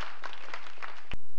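Audience applause for Pedagogical University players at a quiz-show event, scattered claps rising in a few bursts, with a sharp loud clap near the end.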